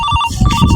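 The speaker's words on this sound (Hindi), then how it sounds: "वो देखो चिल्हरुआ फिर फोन लगाई से, उठाई कि ना उठाई।" A mobile phone rings with an incoming call, a repeating electronic ringtone with steady beeping tones, loud and close, heard alone without talk.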